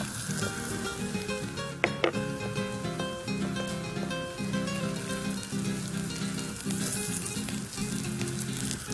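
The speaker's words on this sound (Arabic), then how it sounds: "هلأ بدنا نحط الكوسة" Courgette slices frying in oil in a pan, a steady loud crackling sizzle throughout, with a couple of sharp knocks near the start as pieces are laid in or shifted.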